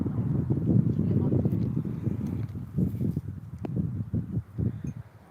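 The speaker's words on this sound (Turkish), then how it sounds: "burası esiyor" Wind gusts across an outdoor spot in a steady, rough low rumble that buffets the microphone, swelling and easing throughout.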